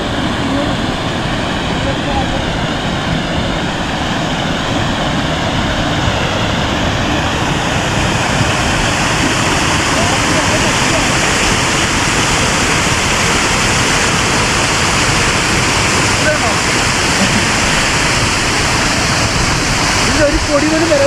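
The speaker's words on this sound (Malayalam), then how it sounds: "ഇതിപ്പോൾ ചെറിയ അരുവിയാണ്" A small mountain stream runs near a tent camp high above a remote village, its steady rushing wash loud and unbroken, with no voices over it.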